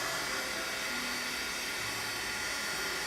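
A hair dryer blows continuously, a loud steady rushing whir that fills the whole stretch without pause.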